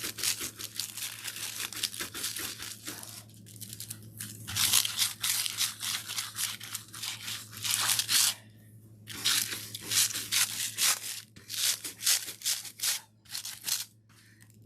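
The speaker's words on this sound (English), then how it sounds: "So here is my scrubbing again." Rough, rhythmic scrubbing strokes across a surface during a craft touch-up, a steady run of dense bursts with brief pauses, up close and with no talking.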